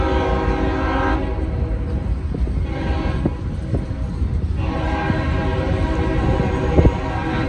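A Norfolk Southern train rumbles past steadily on CSX tracks with rail clatter and a sustained horn blast, loud and close throughout.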